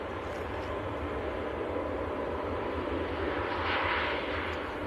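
A Ryanair jet makes its takeoff roll at Manchester Airport in freezing weather. A steady broadband engine roar holds throughout at a moderate distance and swells slightly near the end, with no voices.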